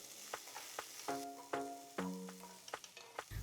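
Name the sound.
onions, green chilies and garlic frying in a pan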